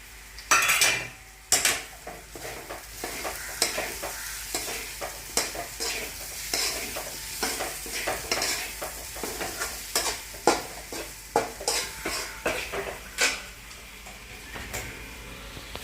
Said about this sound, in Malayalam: ഇനി ഇതിലേക്ക് നമ്മുടെ വറുത്ത് വെച്ചിരിക്കുന്ന ഉരുളക്കിഴങ്ങില്ലേ അതിട്ട് കൊടുത്തിട്ട് ഒന്ന് മിക്സ് ചെയ്യാം.